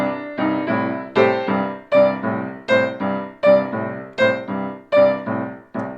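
Boogie-woogie piano riff played with a standard left-hand pattern, a steady run of bouncy, accented chords repeating about eight times, loud and close with no voices.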